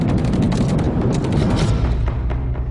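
Pirates fire during a hijack at sea from about 700 meters, producing loud, dense booming gunfire in rapid overlapping bursts that fade slightly toward the end.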